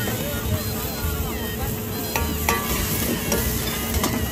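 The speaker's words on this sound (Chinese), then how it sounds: "起锅烧肉，葱花爆香，土豆丝入锅" Shredded potatoes stir-fry in a wok at a street-market food stall, giving a steady sizzle with sharp spatula scrapes and clacks against the metal and busy outdoor background noise.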